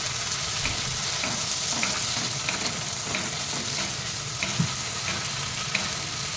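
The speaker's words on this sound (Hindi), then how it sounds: "ये देखिए मैं टमाटर डाल रही हूँ।" Tomatoes hitting a pan of frying onions, ginger and garlic give a steady, dense sizzle that runs throughout, with scattered small pops and crackles close by.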